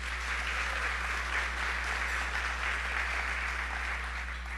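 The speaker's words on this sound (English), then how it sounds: "Another round of applause." Steady, even wash of applause from an audience at an ATHENA Award ceremony, thanking two performers, sustained throughout at a moderate, somewhat distant level with a faint low hum beneath.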